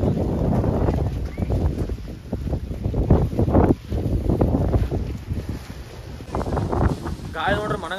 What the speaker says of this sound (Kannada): ಗಾಳಿ ನೋಡ್ರಿ ಮನಗಂಡ ಗಾಳಿ ಐತಿ